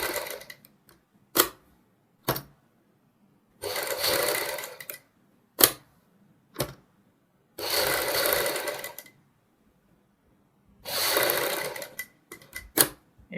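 Sewing machine stitching a kurti neck design with matching-color thread, running in several short whirring bursts of a few seconds each, separated by silences and scattered clicks.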